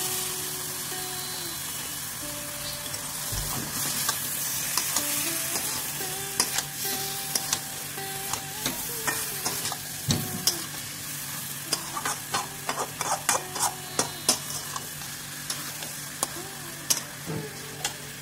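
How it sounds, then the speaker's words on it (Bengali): Chicken pieces frying with spices in a handi pot, a steady close sizzle broken by frequent sharp ticks and scrapes of a spoon stirring against the metal, growing busier toward the end, with no voices. "আমাদের হান্ডি চিকেন রেসিপি আমরা মশলা দিয়ে মাংসের সাথে কষিয়ে নিচ্ছি।"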